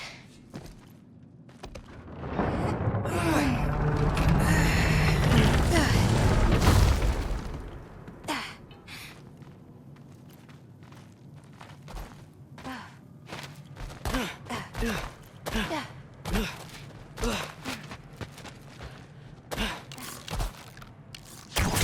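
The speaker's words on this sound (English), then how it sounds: "I think I can hear something breathing near the back of the cellar" A creature breathing in a cellar in the video game God of War Ragnarok, a loud, heavy, rasping exhale that swells for several seconds, followed by quieter footsteps and thuds.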